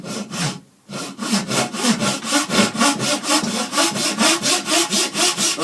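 Hand saw cutting wood for a walking stick, a steady run of about seventeen rhythmic back-and-forth strokes after a brief pause near the start, close and loud with no talking.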